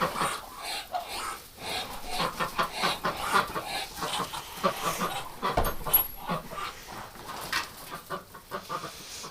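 Muscovy ducks gathered in a barn on a cold winter evening give off a busy run of short calls and scuffling, steady and close throughout, with no talking over them.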